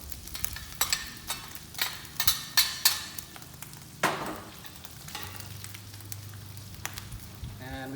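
Garlic fries and sizzles on a flat top grill while making vegetable lumpia, with a steady hiss broken by repeated scraping and stirring strokes, close and moderately loud, settling into a calmer sizzle toward the end.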